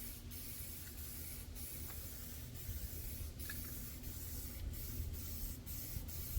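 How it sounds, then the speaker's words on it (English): An aerosol can lays a light skim coat of camouflage paint onto a rifle or handgun in short repeated spray bursts, each a close, sharp hiss separated by brief pauses, with no one talking. "You basically just want to give it a skim coat, something just to get some paint on the surface"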